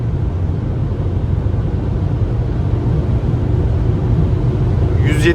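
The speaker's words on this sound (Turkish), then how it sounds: "Arabanın rüzgar sesi biraz daha arttı." Steady broadband wind and road roar inside a 2024-style Opel Combo Cargo Ultimate van with a 1.5-litre 130 hp engine cruising at about 150 km/h, a constant low rumble filling the cabin with a brief higher hiss near the end.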